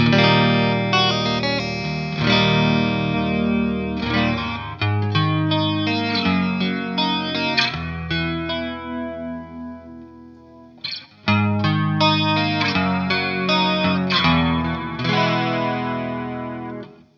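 An electric guitar plays through a chorus effect pedal with level and depth set to maximum, producing loud, lush, swirling warbled chords that ring out and decay, then resume after a brief pause.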